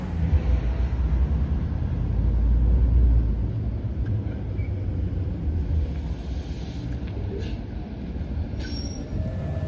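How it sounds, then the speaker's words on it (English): An Annapolis Transit green route city bus pulls into a stop. Its low engine rumble swells early, then eases into a steady idle, with a few faint high squeals near the end. "an Annapolis Transit green route bus showed up"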